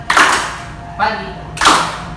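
A group clapping hands during a class concentration and stretching exercise: three dense bursts of applause-like claps, each lasting about half a second, separated by brief gaps.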